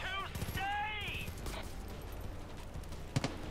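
Sniper gunfire in the video game Far Cry 5: a couple of sharp, close shots crack near the end, after a stretch of talking and quieter in-game background noise.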